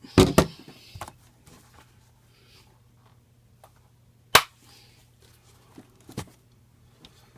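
Sharp camera shutter clicks sound during product photography of video games. There are a few separated shots, loud and close, with softer handling taps between them in an otherwise quiet room.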